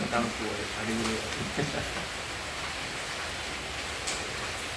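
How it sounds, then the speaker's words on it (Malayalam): Steady, dense rain hisses throughout, a continuous heavy downpour, with a voice speaking briefly near the start. "ഇപ്പൊ നല്ല മഴയായിരുന്നു"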